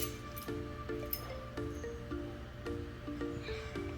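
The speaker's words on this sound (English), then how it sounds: "What it does have is a magnet that allows you to pick up those keys." Metal keys clink and jingle as a magnet on a foldable reacher grabber tool picks them up, with several short, repeated metallic taps over a steady background hum.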